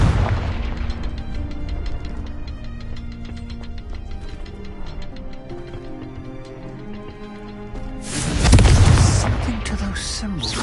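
In Hogwarts Legacy, the Confringo spell erupts as one loud, booming blast near the end, cutting through steady background game music.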